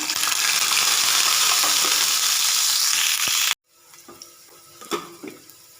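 Garlic cloves fry with mustard seeds and fenugreek in hot oil. A loud dense sizzle is cut off abruptly, and quieter clinks and scrapes of stirring follow, close up, with no voices.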